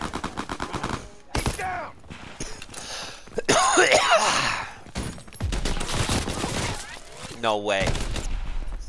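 Bursts of gunfire in Call of Duty: WWII, sharp rapid shots broken up by pauses, with someone talking and clearing his throat between volleys.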